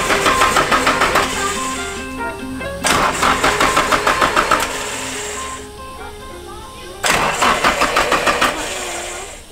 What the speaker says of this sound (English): unplug your cast cam angle sensor and then turn it over a couple times so the turbo can go into the bearings